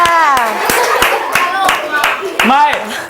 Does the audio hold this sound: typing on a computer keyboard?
no